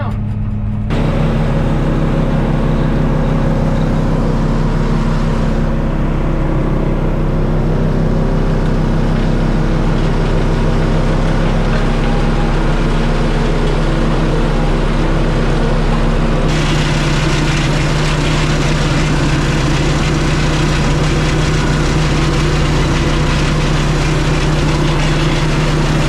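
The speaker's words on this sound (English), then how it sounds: "Taking the spoils with the skid steer" A skid steer engine runs on a driveway build site, a loud, steady diesel drone with a low hum that shifts in pitch and texture partway through as the machine works, with no talking.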